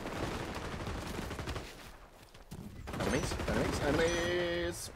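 Gunfire in the online shooter XDefiant, a rattling burst of rapid shots filling the first seconds and returning louder toward the end, mixed with game effects and a bright tonal cue near the close.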